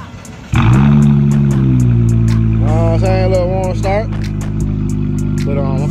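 A Dodge Charger's engine fires on a warm start with a sharp jump in loudness, settling into a loud, steady, deep idle with light revving throughout, while a person talks over it in bursts.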